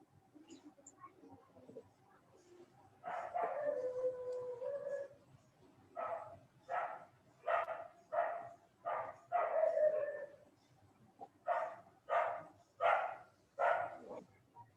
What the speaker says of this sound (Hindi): एक कुत्ता कहीं भौंक रहा है।